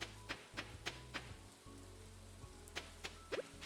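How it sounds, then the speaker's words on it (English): Rain falls steadily in the video game Of Frogs and Farmers, a soft continuous patter with scattered sharper drops and taps over a low hum, heard alone at low level. "Oh, it's raining."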